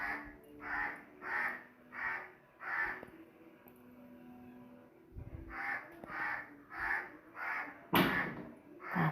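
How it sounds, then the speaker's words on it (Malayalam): Crows caw loudly nearby in two bursts of four or five harsh, evenly spaced calls, separated by a quieter pause. A sharp knock lands near the end. "കാക്ക ഭയങ്കരമായിട്ട് കിടന്ന് കാക്കാന്നായിക്കൊണ്ടിരിക്കുന്നു."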